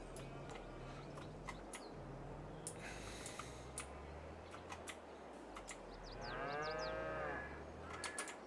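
Cows in the video game Farming Simulator, with one long, drawn-out moo rising near the end over quiet farm ambience, a lower bovine drone earlier, and a few light bird chirps scattered throughout.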